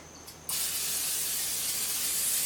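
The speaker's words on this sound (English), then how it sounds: "some Nonstick cooking spray" Nonstick cooking spray bursts out of the can in one steady, close hiss that starts abruptly and holds without a break, with no voices over it.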